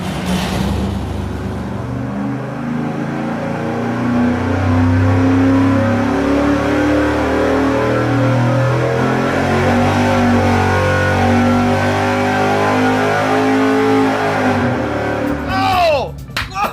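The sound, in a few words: 305 Chevy engine on nitrous revving on the dyno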